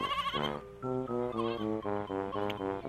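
A goat bleats in a long, wavering series of nasal cries, loud and close, in a children's fairy-tale setting with no talking over it.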